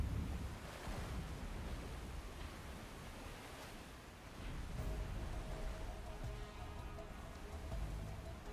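Ocean waves and wind wash past a submarine cruising on the surface in the Silent Hunter 4 game, a soft, continuous surf rumble that swells and eases, faint and unbroken with no voices.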